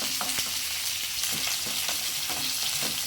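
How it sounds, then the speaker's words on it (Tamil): Small onions sautéing in a pan for a raw banana fry, giving a steady close sizzle with a few sharp stirring scrapes and taps spaced across the moment, no voices. "வெங்காயம் வந்து ரொம்ப வதங்க தேவையில்லை இது வந்து ஒரு கண்ணாடி பதம் வந்த அளவுக்கு வதங்கினா போதும்"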